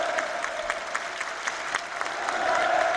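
A large audience at a ballet performance in a theatre applauds steadily with dense, sustained clapping and crowd cheering that swells slightly toward the end.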